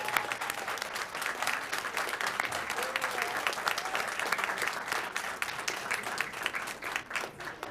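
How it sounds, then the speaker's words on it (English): Audience at an elementary school reading-competition event applauding students, dense sustained clapping filling the whole stretch, moderately close, with faint voices mixed in. "I want to give everyone, all the gentlemen here, a round of applause."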